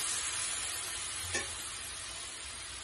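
A cauliflower masala gravy simmers in a pan after hot water is added, with a soft, even bubbling hiss and one brief clink partway through. Quiet and steady, with no voices.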